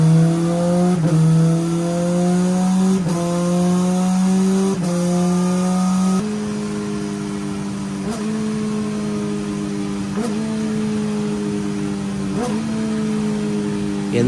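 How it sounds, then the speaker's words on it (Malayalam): A motorcycle engine runs loud and close as gears are shifted up and down aggressively without clutch or throttle cut, its steady drone broken by sharp dips at each shift every couple of seconds. "ഒരാൾ അഗ്രസീവായിട്ട് അപ്പ് ഷിഫ്റ്റും ഡൗൺ ഷിഫ്റ്റും ചെയ്യുന്നു, അതും ക്ലച്ച് പിടിക്കാതെയും ത്രോട്ടിൽ കട്ട് ചെയ്യാതെയും."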